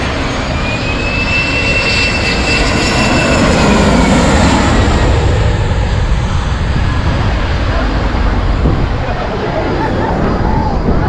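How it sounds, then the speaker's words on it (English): Airplane coming in to land at Maho Beach, St Maarten, with a loud, close jet engine roar that fills the whole stretch, mixed with wind and crowd noise from the beach. "here's an example of one of the aircraft coming in for a landing"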